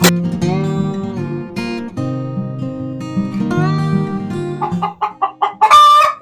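An angry hen in a chicken coop clucks and squawks insistently up close, with a long run of complaining calls that breaks into a quick series of sharp clucks and ends in a shrill cry.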